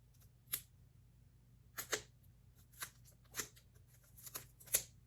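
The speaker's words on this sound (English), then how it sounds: "And then I'm gonna go ahead and snip the plastic on so below to make it easier for myself." Scissors snipping the plastic wrap off a tarot deck, a handful of short, faint, crisp snips and crinkles spaced irregularly over quiet room tone, close by, with no talking.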